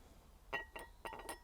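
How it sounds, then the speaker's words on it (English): A water glass set down on a small lunch table, giving several light glassy clinks and taps in a quiet room, close and distinct with short gaps between them. "You will then have a water glass, so again, give it a quick buff and then just position it on the table."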